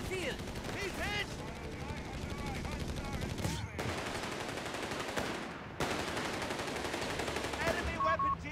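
Machine gun fire in the real-time strategy game Company of Heroes 3, dense rapid bursts with a few sharp breaks, mixed with battlefield noise and shouted voices throughout.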